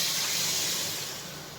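A steady, broad hiss of water sizzling in hot chicken gravy masala in a pan, loud and close, slowly easing off toward the end with no voices.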